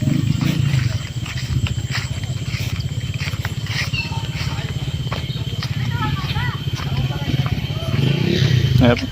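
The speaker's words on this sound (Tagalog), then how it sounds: "Mga motor." Motorcycles labor along a rough, difficult road, a loud continuous engine rumble that pulses unevenly throughout, with people talking over the noise.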